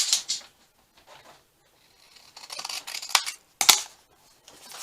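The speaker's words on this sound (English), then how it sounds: "When you cut the one side," Scissors cut paper for a steampunk junk journal lapbook in a few short bursts of crisp snipping and sliding blade noise, close by and separated by quiet gaps, with sharper clicks near the end.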